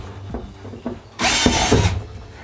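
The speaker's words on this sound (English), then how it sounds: "we're going to drill these 2 holes." Short burst of a power drill boring a hole into a plastic portable toilet while the optional urinal is fitted, a whirring surge of under a second after a few faint handling knocks, close and moderately loud.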